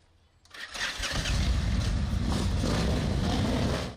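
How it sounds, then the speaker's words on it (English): Motorcycle engines of a group of bikers: one starts up after a short quiet moment, then a loud, steady rumbling rev holds to the end. "Revving their engines."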